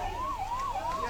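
A wailing ambulance siren rises and falls in smooth repeated sweeps, heard at moderate distance over low traffic rumble.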